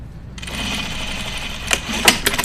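A sewing machine stitching through denim, running in a steady close whir with a few louder mechanical bursts near the end.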